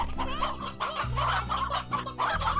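Chickens clucking in the farming video game Slime Rancher, a steady chorus of close, busy clucks and squawks filling the whole stretch without pause.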